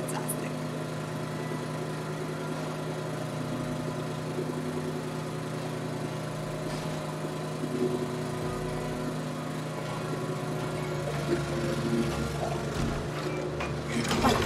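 A lawn mower drones steadily in the background throughout, its engine hum continuous and even with no pauses or changes in pitch.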